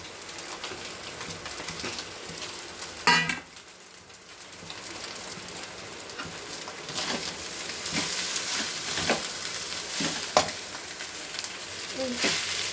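Egg rice frying and sizzling in a pan with chili powder, salt and turmeric, while a spoon stirs and mixes it, with steady hissing and occasional scraping clicks throughout.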